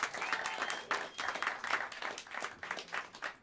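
An audience applauds at Smalls, a jazz club: continuous clapping and cheering in a live room, dense and steady, with light voices mixed in.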